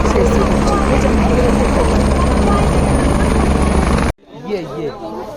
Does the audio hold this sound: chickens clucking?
no